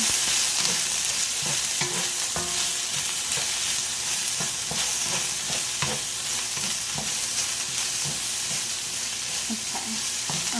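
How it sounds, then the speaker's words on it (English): Sliced garden okra stir-fries in a pan with a constant close sizzle, while a spatula stirs and scrapes in frequent irregular strokes throughout. "now I'm adding my okra that I sliced. And there you go. You just stir fry."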